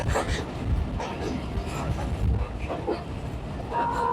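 A Joydebpur commuter train runs at speed through Dhaka Cantonment station without stopping. A rattling, rumbling ride noise carries throughout with uneven clatters.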